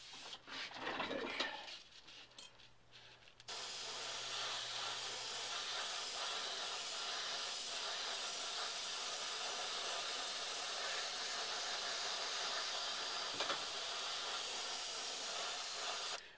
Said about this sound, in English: I'll turn my pressure down a little bit on the airbrush.